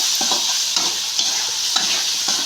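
Chopped tomatoes are stirred into a frying potato curry: a close, steady sizzle with repeated spoon scrapes and taps against the pan.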